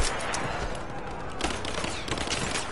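Gunfire in the video game Rise of the Tomb Raider, a dense, continuous burst of rapid shots and impacts that stays loud and busy throughout the short stretch.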